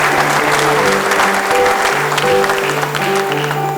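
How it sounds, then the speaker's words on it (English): At a UPSA law school honors ceremony, an audience gives dignitaries a warm round of applause, a full, steady clatter of many hands with faint background tones beneath. "Shall we welcome them with a big round of applause?"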